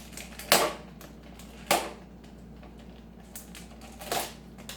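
A packet is torn open by hand, giving three short, sharp crackling rips spaced a second or more apart, close and fairly loud over a quiet room.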